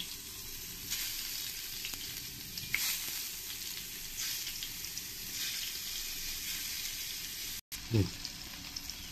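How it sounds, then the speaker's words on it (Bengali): Paneer pieces frying in hot oil with a little salt and turmeric, giving a steady, loud sizzle throughout with faint background clatter and a brief break near the end. "এবার আমি এই পনিরগুলো সব এক এক করে এই তেলের মধ্যে ফ্রাই করে নেব"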